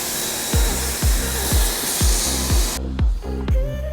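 An Okaoda RUILI-02 electric pressure washer sprays water on a gentle watering mode, giving a loud, steady hiss over a regular pulsing thump from the pump that continues after the spray cuts off near the end.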